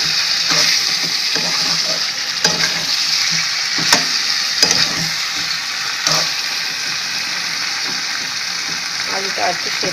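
Chicken and potatoes fry in a pan with coriander leaves, making a dense, continuous sizzle close by, broken by periodic scrapes and clicks as a spatula stirs them.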